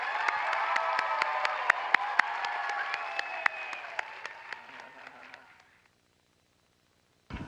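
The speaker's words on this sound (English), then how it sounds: "let's give them a warm round of applause again" An audience gives a round of applause at the close of a live event, with sharp individual claps standing out from the crowd. The clapping thins and fades to silence midway, then a short burst returns at the very end.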